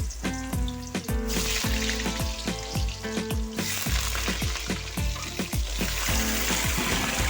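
Potatoes fry in hot oil with turmeric for a shrimp and potato dish, giving a loud, constant close sizzle with crackling and the clatter of stirring.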